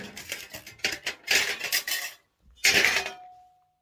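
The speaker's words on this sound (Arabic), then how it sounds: "كسرت الدرع حق يوتيوب." A YouTube creator award plaque is smashed in a few quick bursts of hard metallic clattering and clinking, loud and close, with a brief pause before a final crash that rings out faintly.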